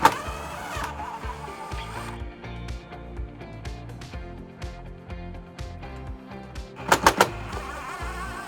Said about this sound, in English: Next, we'll be removing the screws that secure the flange to the wall and the screws that secure the flange to the column.